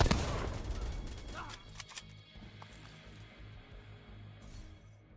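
Gunfire in The Division 2 while shooting grenades, a loud burst of shots and impacts at the start that gives way to scattered quieter cracks and clinks over a low rumble.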